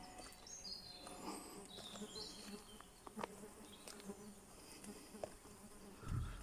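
Many flies buzz close by beside a small stream in the Cévennes countryside, with faint birdsong and a few soft knocks and thumps in the background.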